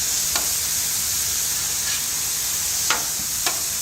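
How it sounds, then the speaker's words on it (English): Chicken fajitas sizzle loudly and steadily on a Blackstone griddle, with a few quick spatula scrapes and taps as pieces are flipped. "We got some here in the middle we got to flip"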